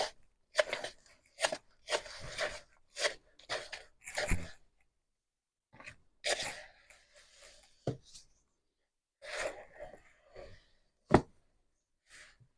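Silicone spatula working fig and walnut bread dough in a bowl: intermittent soft scraping, slapping and squelching strokes in uneven bursts with quiet gaps, close and fairly faint.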